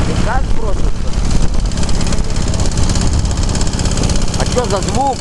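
A running engine with a piston knock gives a steady, loud, close mechanical clatter with rhythmic tapping under it, and voices talk briefly over the noise.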